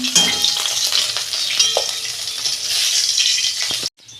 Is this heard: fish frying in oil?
yes